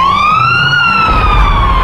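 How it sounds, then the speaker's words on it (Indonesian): A wailing air raid siren sounds during a wartime alert at a camp, one loud sustained tone slowly rising and then falling, with rumble and background noise underneath. "terdengar bunyi sirene udara"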